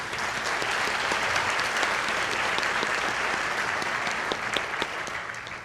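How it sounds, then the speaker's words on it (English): Dense, steady audience applause fills a banquet hall, cheering winners at the 2015 Arkansas 4-H O-Rama Awards of Excellence; the clapping runs continuously and evenly for several seconds before easing slightly at the end. "Let's give them all another round of applause."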